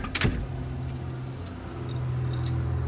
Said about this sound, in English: I was making sure I had my keys before I lock the door.